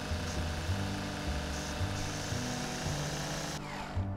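A lawn mower runs steadily nearby, its low engine drone holding an even, continuous rumble throughout while a garden's side plantings are cut around.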